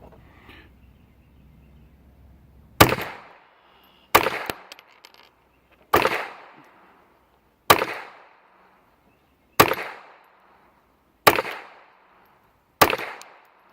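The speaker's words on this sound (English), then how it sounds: "Let's see how badly we can shoot up the left-hand side of that target." Seven sharp, loud gunshots from a Walther PPQ 22 pistol fired at a target, evenly spaced about one and a half to two seconds apart, each with a short decaying tail, after a brief low rumble.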